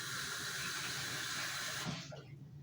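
Water runs steadily from a kitchen tap into a sink to soak a dish, a close rushing stream that stops near the end, leaving faint dripping and splashing.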